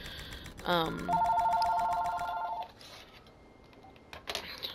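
A telephone rings in a quiet room with a short burst of electronic trills, loud and close for about two seconds, then stops, with faint clicks and noises afterward.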